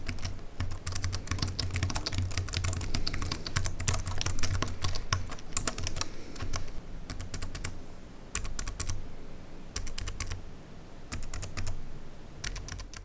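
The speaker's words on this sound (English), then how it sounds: "You can hear what the keyboard sounds like." Rapid clicking keystrokes on a Bluetooth keyboard patter in dense bursts, with brief pauses between runs, close and fairly loud; no one speaks.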